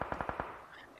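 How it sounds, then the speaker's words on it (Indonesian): Automatic gunfire in the PUBG Mobile battle royale game during a tournament match: a rapid burst of about five shots, loud and close, fading into a faint tail. "dia langsung nembakin terus-menerus ke arah Zuxi."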